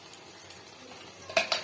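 Metal spoon stirring mutton masala with yogurt and spices in a pan, a few soft scrapes and then two sharp clinks against the pan near the end, close and alone.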